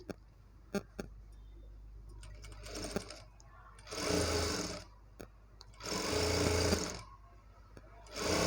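A sewing machine stitches a dori cord for a blouse neck design in two longer whirring runs and a short final burst, with soft clicks and handling noises in the quiet gaps.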